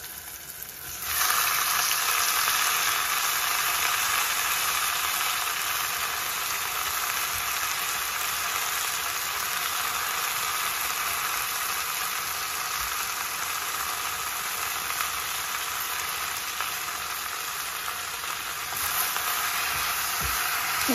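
Fresh spinach, added with turmeric to a hot pan for spinach dal (palakura mudda kura), sizzles steadily. The frying hiss starts abruptly after a second and holds nearly constant for about twenty seconds, close and fairly loud, with no talking.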